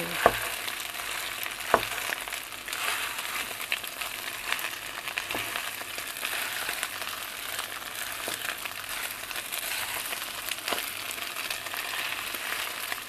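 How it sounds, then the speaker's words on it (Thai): Thai fried shellfish pancake (hoi tod) with large shellfish frying in a pan, giving a steady, close oil sizzle that runs unbroken throughout, dotted with a few sharp clicks of a utensil. "ก็ทอด ก็ทอดอีกสักพักหนึ่งนะคะ"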